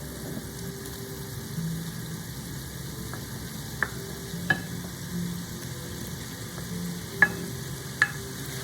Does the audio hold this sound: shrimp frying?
yes